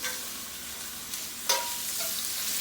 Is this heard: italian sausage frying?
yes